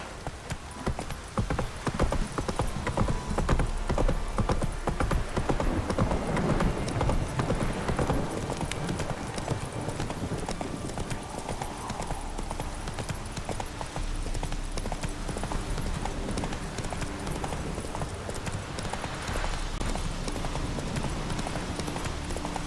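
Horse galloping in the video game Witcher 3 Wild Hunt, a steady rapid drumming of hooves that stays loud and close throughout, with no talk.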